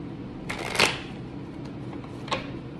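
A deck of tarot cards is shuffled by hand, a quick riffle of crisp papery flutters followed by a shorter second burst, fairly close and quiet.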